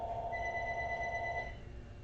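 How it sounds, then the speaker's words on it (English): A phone rings with a steady electronic trill, held tones sounding for about a second and a half before cutting off, fairly faint over room hiss with no talk. "Oh, my phone's ringing."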